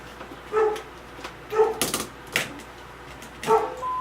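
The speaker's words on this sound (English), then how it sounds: "You can hear my dogs going crazy because I have company coming" Several dogs indoors barking and yelping excitedly, with short sharp barks and a whiny howl-like cry recurring every second or so, moderately close, with no talking.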